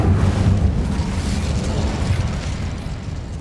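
The Incendio fire spell is cast in the Hogwarts Legacy video game, a loud, sustained roaring burst of flame that fills the whole moment with dense, crackling noise and no pause.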